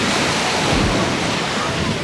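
Ocean surf rolls onto a beach on Fuerteventura, Spain, a steady loud wash of breaking waves with gusty wind buffeting the microphone throughout.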